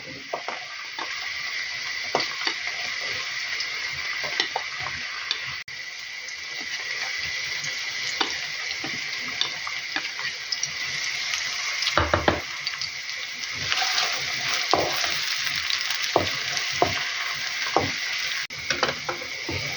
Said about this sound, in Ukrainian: Олія нагрілася, засипаю цибулю, хай спочатку смажиться.